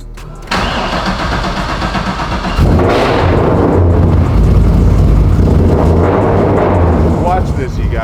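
A 750-horsepower Grimm Camaro built for SEMA starts up with a loud crank and catch, then settles into a deep idle close by with throttle blips, running steadily for several seconds.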